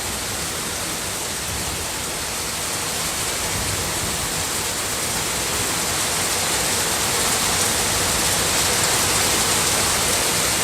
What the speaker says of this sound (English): I'll show you how hard it's raining.